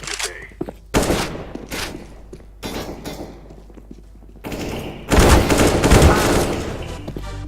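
Rapid automatic gunfire from a team shooter match rattles out in several loud bursts separated by brief pauses, the longest and densest burst coming near the end.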